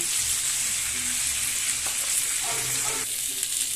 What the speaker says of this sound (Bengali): এবার আমি আলুটা ভেজে নিচ্ছি